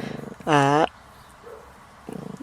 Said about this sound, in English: so you can hear a dog barking.